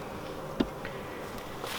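Low, steady insect buzzing of honeybees in a nuc hive, soft and continuous, with a brief louder tap partway through and no voices.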